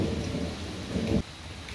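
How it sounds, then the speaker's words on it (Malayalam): A May evening thunderstorm brings steady rain with a low rumble of thunder that swells and then cuts off abruptly near the end, close and fairly quiet, with no speech. "ഇപ്പോൾ ഈവനിങ്ങിലത്തെ ചായ കുടിക്കലൊക്കെ കഴിഞ്ഞപ്പോഴേക്കും നല്ല ഇടിമഴ"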